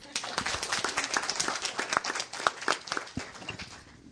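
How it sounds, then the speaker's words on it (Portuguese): A small group claps at an academic graduation project presentation, sparse and distinct, fairly faint and close, lasting a few seconds. "eu sugiro uma salva de palmas."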